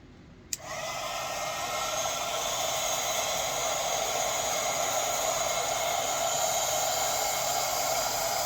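A handheld heat tool blows hot air over a magic mat, starting abruptly with a click and then holding a steady, close whooshing whir with no other sounds.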